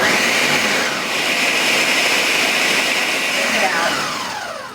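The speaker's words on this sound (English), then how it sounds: "We're going to pulse first and then we'll blend" A blender running on frozen watermelon mojito mix: a steady, loud whirring roar held for several seconds, its pitch shifting slightly as the mixture loosens, then tapering off at the end.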